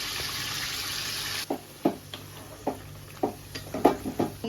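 Chicken and its released juices cooking in a pan for garlic cheese butter chicken: a soft sizzle fades out, then a series of distinct spoon scrapes and taps ring out at irregular intervals, close and clear, with no talking.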